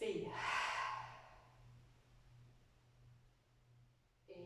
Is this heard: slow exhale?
yes